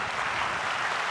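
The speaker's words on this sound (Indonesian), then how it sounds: "Kita kasih tepuk tangan untuk itu." Audience applause at a televised Indonesian talk show, a brief steady wash of clapping from a crowd, fairly loud and alone.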